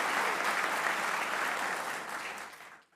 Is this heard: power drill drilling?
no